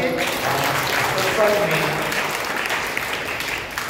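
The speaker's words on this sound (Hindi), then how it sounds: "जो नए लोग आए उनको ताली बजा के" A church congregation at a satsang at St. Sebastian's Church in Tahirpur claps together in sustained applause to welcome newcomers, with someone speaking briefly over the clapping.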